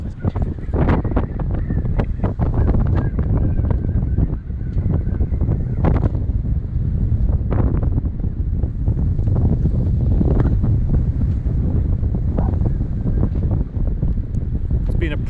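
Steady wind buffets a sailboat riding at anchor on a 32 kg Bruce anchor at a remote spot, a loud continuous roar with gusty rumbling on the microphone and occasional knocks and rigging clatter throughout.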